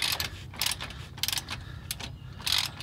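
A wrench clicks in short ratcheting bursts while tightening the dog bone bolts of a dual steering stabilizer on a 2017-2019 Ford F250, several close, separate runs of rapid metallic ticks.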